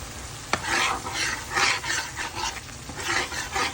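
Poppy seed, mustard and green chilli paste being stirred and fried in oil in a pan for a mustard fish curry: continuous scraping and stirring over a soft sizzle, close and fairly loud, with one sharp knock early on.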